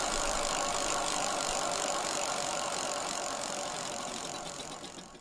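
A prize wheel spins in the NBA 2K24 MyTeam game, a dense continuous ratcheting clatter that stays loud and steady, then slows and fades over about five seconds, with no voices.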